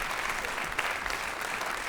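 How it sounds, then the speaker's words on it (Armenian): A studio audience claps in sustained, dense applause that holds steady and loud throughout without a break. "Մեծ ծափան"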